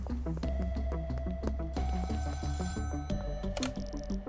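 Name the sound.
payphone call ringing in video game Schedule 1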